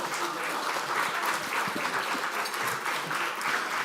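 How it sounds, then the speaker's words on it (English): Warm, sustained audience applause at a European Jewish community conference, a thick even roar of many hands clapping with no talk on top. "Please give them a warm round of applause."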